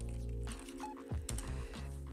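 Keys tapped on a computer keyboard during data entry in an Excel spreadsheet, a short run of quiet clicks over a steady low hum.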